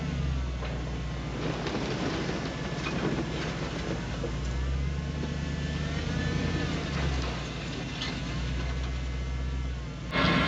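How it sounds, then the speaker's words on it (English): A truck backs up a few feet toward a drift boat on lakeside flats during a stuck-boat recovery; a steady, close engine drone with low rumble runs unbroken for about ten seconds, with no talking. "Now we're just gonna back up a few feet and get the boat up to where the truck is."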